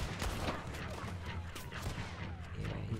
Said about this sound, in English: I think someone's shooting for me.